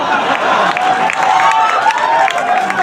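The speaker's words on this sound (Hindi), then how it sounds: "ये नौजवान हमारे ताली बजा रहे हैं" Audience at an outdoor poetry gathering in a fairground claps and cheers loudly and continuously, a dense, close wash of applause with crowd voices mixed in.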